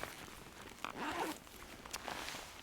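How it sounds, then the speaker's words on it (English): Ski touring clothing zips being pulled closed at a snowy forest edge, a couple of short rasping zip strokes close by, fairly quiet, with faint rustling of fabric in between. "I'll take the time to close all my zips so that the snow doesn't come in."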